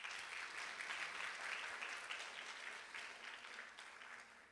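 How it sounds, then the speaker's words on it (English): An audience at a Mohiniattam dance arangetram breaks into sustained applause, with dense, steady clapping that slowly thins out. "she deserves another round of applause"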